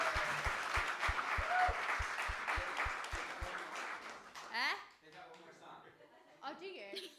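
Audience applause at a young person's open mic night, a dense burst of clapping and crowd noise that fades after a few seconds, with a steady low beat under it and a voice speaking as it dies away.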